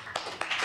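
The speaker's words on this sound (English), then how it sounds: "let's give her a great round of applause" A brief burst of audience applause at a 1997 poetry recital in the Bayview branch of the San Francisco Public Library, with a few sharper claps standing out from a soft, steady patter.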